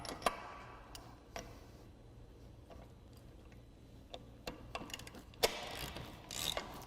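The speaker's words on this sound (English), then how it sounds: "I'm going to run this bolt all the way in, and it may take a little bit to do so" A hand ratchet with a 5-inch-deep socket turns a caging bolt into a truck brake chamber, giving quick bursts of close, fairly quiet clicking separated by short pauses, and no one speaks.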